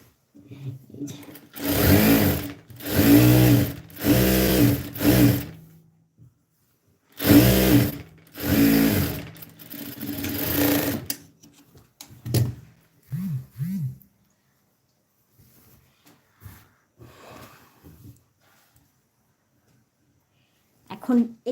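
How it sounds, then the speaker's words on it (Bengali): A sewing machine stitching fabric layers runs in several loud, close bursts of a few seconds each, followed by quieter stretches with faint handling sounds. "আরেকটা উপরে পাট রেখে হাইটা সেলাই করে নিচ্ছি"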